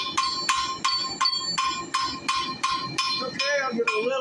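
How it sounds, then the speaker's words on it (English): Hard, evenly spaced hammer blows ring out on hot metal as a small hummingbird is forged, roughly ten bright metallic strikes at a brisk pace, with a voice speaking near the end. "So I've got my hammer close, I'm down low, hitting it hard"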